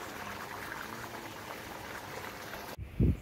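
Water from a submersible pump pouring into a drum, a continuous close gurgling rush that cuts off abruptly near the end, followed by a brief low thump.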